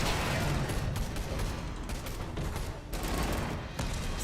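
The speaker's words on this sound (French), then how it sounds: "C'est les explosions, etc. Les effets de particules, les destructions d'éléments" Dense, continuous booming and crackling from explosions and destruction in an Unreal Engine 5 demo, a loud rapid barrage that persists throughout.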